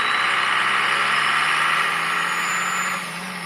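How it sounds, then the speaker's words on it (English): An old four-wheel-drive truck with a five-speed manual gearbox idles steadily nearby, giving a continuous engine drone with no talking, and it eases slightly quieter toward the end. "Listen to what this engine sounds like."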